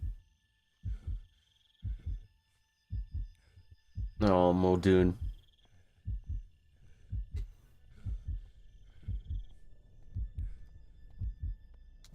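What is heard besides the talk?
heartbeat sound in a video game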